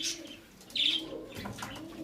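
Nor pigeons in a pigeon loft, a few soft coos and chirps close by, faint and brief, with light rustling.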